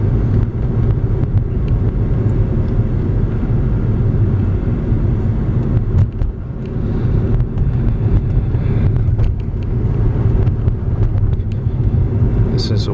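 A 2004 Chrysler Crossfire on the move: a loud, steady engine and road drone with wind buffeting the microphone throughout, continuous and close, with no clear breaks.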